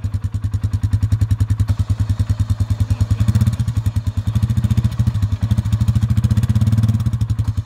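A Polaris ATV engine revs in steady, rapid pulsing bursts, loud and close, building slightly in the middle as the quad strains to pull out, with no talk over it.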